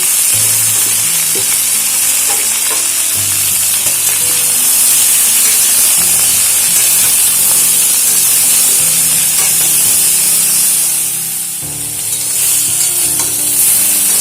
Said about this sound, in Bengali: মিষ্টি কুমড়ো ও সজনে ডাঁটা মিনিট 2 ভাজার পরে আমি কেটে রাখা বেগুনগুলো এর মধ্যে দিয়ে একবারে ভেজে নেব।